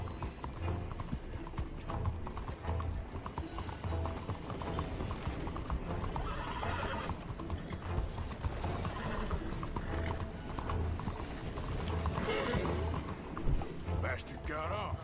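Horse hooves clip-clop steadily in Red Dead Redemption 2 with occasional whinnies, set against a dense game soundscape of music and ambience, with voices talking over it throughout.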